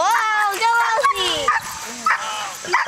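A dog yips and whimpers in high, excited bursts during an outdoor lure coursing event, close and loud, with people talking and cheering over it throughout.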